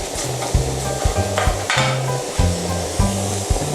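Stirring and scraping enoki mushrooms in oil in a hot pan with oil sizzling steadily underneath, punctuated by several sharp utensil knocks against the metal.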